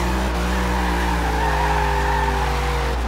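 A '57 Chevy Bel Air on a drift build in Forza Horizon 2, engine roaring steadily while tires squeal through a sustained slide, loud and continuous.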